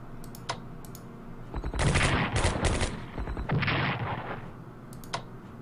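Heavy gunfire bursts from a Strategic Command Allied 1944 World War II strategy game, dense rattling volleys lasting a few seconds, with brief clicks before and after and no talking.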